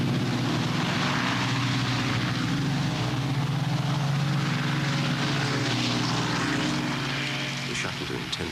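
Four-engined Avro Shackleton propeller aircraft droning loudly and steadily in flight, a deep continuous multi-engine rumble with a throbbing beat, close and sustained throughout.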